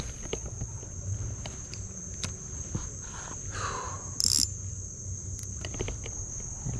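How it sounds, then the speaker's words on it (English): Insects buzzing and chirring around an inshore lagoon, a steady high whine running throughout with scattered ticks and rustles, outdoors and fairly near, no talking. "Bugs are always so bad in here."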